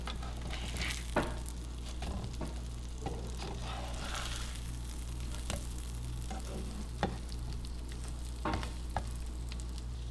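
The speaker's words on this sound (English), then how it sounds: "now we just threw the sausages in the pan. We put some vegan butter to cook it with" Plant-based sausages fry in a pan with vegan butter, giving a steady close sizzle and crackle with occasional sharper pops and scrapes of stirring, no voices.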